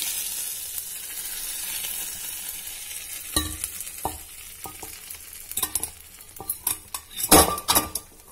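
Mustard seeds for a coconut chutney tempering sizzle and splutter in hot oil in a pan, with sharp pops growing louder and denser toward the end and a few clinks of a spoon against metal; no one speaks.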